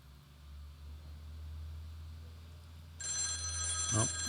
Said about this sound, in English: Oh, phone ringing.